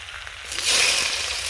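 Dry red chillies and black cumin hitting hot mustard oil, a sudden close sizzle that swells and holds for the remaining second.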